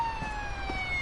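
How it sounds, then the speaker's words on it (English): Police car siren wailing steadily in the Police Simulator video game, a continuous high rising-and-falling tone holding loud throughout over a low engine rumble. "the siren is so annoying"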